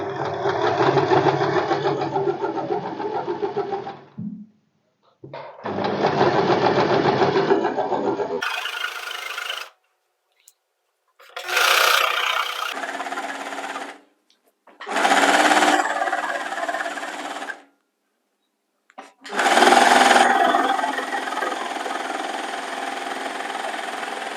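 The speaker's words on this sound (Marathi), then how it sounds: "पहिला मी कमरेला दाबशिलाई मारून घेते एकदम फिनिशिंगने मारायची" A sewing machine runs stitching along the waist edge of a blouse, with several motor bursts of a few seconds each separated by short silences; no talking.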